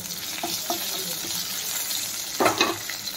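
Curry leaves and asafoetida dropped into hot oil for tempering, a close crackling sizzle with a sharp burst of spitting near the end.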